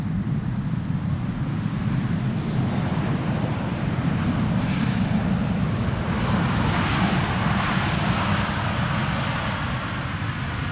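A large passenger jet arriving on the Polderbaan runway at Amsterdam Schiphol Airport, a steady loud engine roar that swells and slowly shifts, heard alone.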